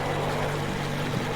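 A boat engine idles in the Metro Exodus video game, a steady low droning hum held at even loudness for a brief moment, with no talk over it.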